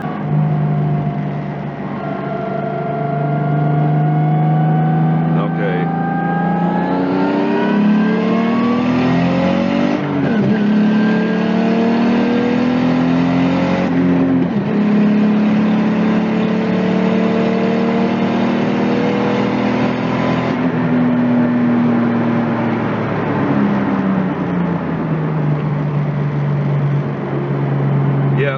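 An RB20DET-swapped Nissan S13 240SX revs hard while sliding on loose ground, its engine note rising and falling in long sweeps close to the microphone, with a brief spoken word near the end.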